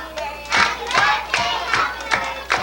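Hands clap in a steady rhythm at a first birthday party, a group clapping along close by with a faint crowd behind, the beat falling roughly twice a second.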